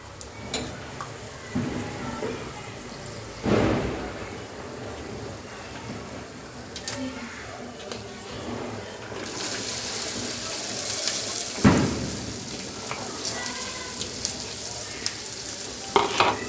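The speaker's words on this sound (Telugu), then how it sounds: "ఇప్పుడు ఇందులో బెండకాయలు వేసుకుందాం." Okra dropped into a pan of hot oil for a crispy Andhra-style fry, a sustained close sizzle that swells louder partway through, punctuated by a few stirring knocks and scrapes.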